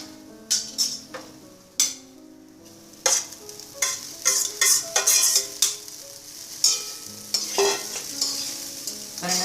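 A spatula stirs cooked rice with grated coconut and pepper powder in a hot pan, with repeated sharp scrapes and clinks against the metal over a low sizzle. The sound is close and comes in irregular bursts, with no voices.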